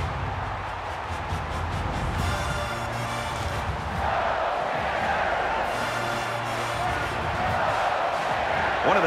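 Stadium crowd roaring and cheering at a college football game between Tennessee and Florida in NCAA Football 22, a loud continuous wash of noise that swells in places, with an announcer talking over it.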